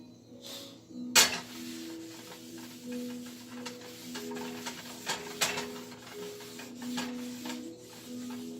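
A cast iron skillet is pulled from the back of a kitchen oven during reseasoning, giving one sharp metallic clunk followed by quiet scraping and rubbing over a low steady hum.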